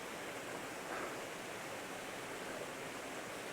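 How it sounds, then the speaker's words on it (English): Water flows at Thirlmere in the Lake District, a soft, steady broadband rush like a stream or small cascade, even and unbroken from start to finish with no voices. "The sound of water. Have a listen."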